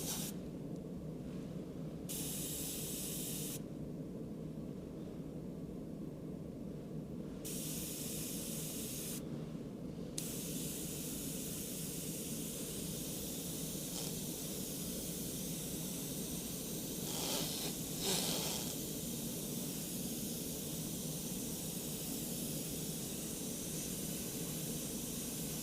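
An airbrush sprays black paint over a skeleton design in a long, steady hiss, near and continuous, with brief breaks as the trigger is released.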